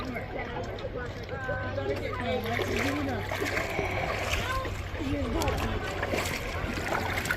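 A waterproof backpack is pushed under water, making close, irregular sloshing and splashing with gurgles over several seconds while a person talks over it.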